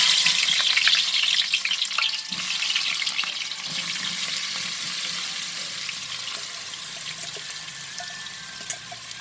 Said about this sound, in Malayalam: ഇനി ഇതിലേക്ക് നമുക്ക് അരിഞ്ഞു വെച്ചിരിക്കുന്ന സവോള ചേർത്ത് കൊടുക്കാം.